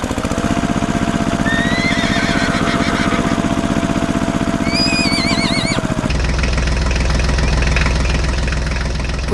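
Horses neigh in an animated farm scene with a crop-duster plane: two high, wavering whinnies rise over a steady, loud engine drone, which turns into a heavier, rougher rumble near the end.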